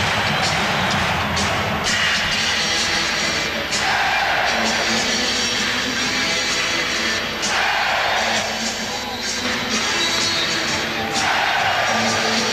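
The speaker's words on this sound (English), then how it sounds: "the usual sellout crowd here at Chicago Stadium" A sellout crowd fills Chicago Stadium during a 1992 NBA playoff game between the Knicks and Bulls, a loud, continuous roar of voices with surging cheers and yells, heard alone without commentary.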